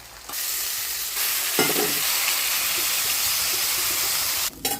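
Charapona fish curry bubbling in a pot and stirred: a loud, close, continuous hiss of simmering and frying, with a spoon scraping through it and a brief clatter near the end.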